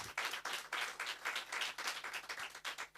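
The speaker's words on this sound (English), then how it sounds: "Please give him a round of applause." An audience at a book launch event claps steadily for about three seconds, a moderately loud, even patter of many hands with no voices over it.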